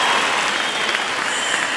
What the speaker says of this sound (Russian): Сейчас должны быть самые-самые громкие аплодисменты ансамбль Тантана.